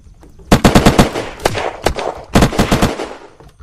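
Rapid automatic gunfire in the video game Unturned during a PvP base raid, loud close bursts of shots with brief gaps between volleys.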